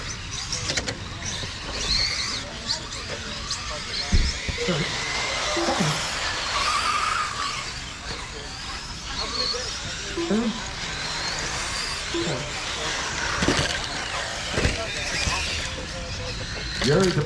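RC 2wd stadium trucks race during an A-main heat, their electric motors whining and buzzing as the trucks zip around the track, under a race announcer's talk.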